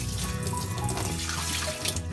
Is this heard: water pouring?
yes